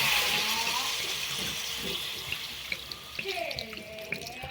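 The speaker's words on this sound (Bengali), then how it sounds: "গরম জল দিয়ে দিলাম।" Hot water is poured into a pan of cauliflower and egg curry, a steady splashing pour that starts strong and tapers into softer trickles and drips, heard close in a home kitchen.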